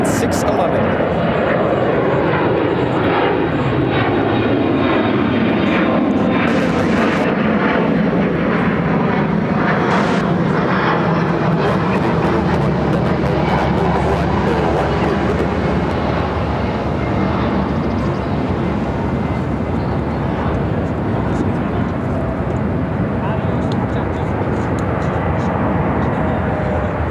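A jet airliner arriving from Amsterdam touches down at Chicago O'Hare, its engines a loud continuous roar with a falling drone as it passes close, while voices talk over the noise.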